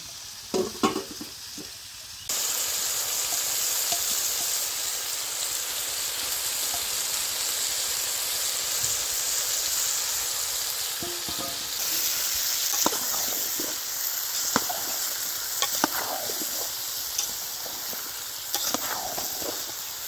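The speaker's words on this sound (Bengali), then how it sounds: "সবজিটা একটু ভাজা হোক হালকা" Steady, close sizzling of fresh garden vegetables frying in a pot for khichuri, with occasional scraping and clinking of a stirring utensil; no voices.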